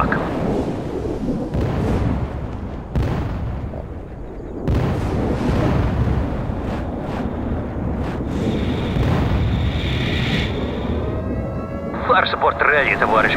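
Soviet artillery barrage in World in Conflict: repeated heavy, rumbling explosions land one after another in loud, irregular bursts, with radio-style voices talking over the booms.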